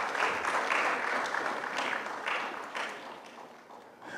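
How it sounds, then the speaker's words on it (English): Moderate audience applause at a gold industry expo event in Ghana, a dense, even patter of many hands that slowly tapers off over a few seconds. "Please give him a clap before I continue"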